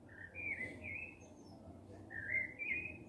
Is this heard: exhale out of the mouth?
no